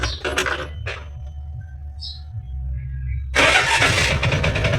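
A car engine cranks briefly and then catches, settling into a close, steady idle near the end. A quiet hum fills the gap before it starts.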